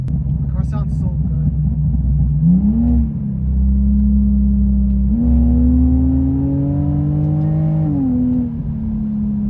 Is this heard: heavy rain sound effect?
no